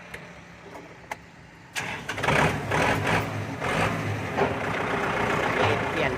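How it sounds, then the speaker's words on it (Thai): A tractor's diesel engine starts and settles into a steady, close rumble, with a few clicks and knocks beforehand. "ฟังเสียงเครื่องยนต์ดูนะครับ"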